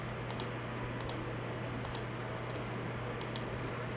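Computer mouse clicks come in small sharp clusters, a few seconds apart, while rows are selected in an Excel spreadsheet; a steady electrical hum and broadband hiss run beneath them, and no one talks.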